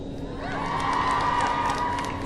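A convention panel audience at PhxCon 2017 cheers for a birthday, with sustained crowd cheering and whoops filling the room loudly from start to finish.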